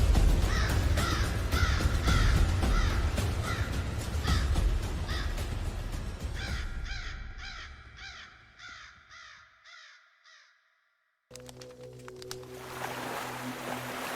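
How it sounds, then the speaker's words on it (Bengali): A raven circling high above a cremation pyre caws over and over in a spooky Bengali horror story, the harsh calls repeating in a steady series before fading, then silence and a low rumbling ambience. "চুল্লির ঠিক অনেকটা ওপরে একটা দাঁড় কাক ঘুরপাক খেতে খেতে সমানে ডেকে"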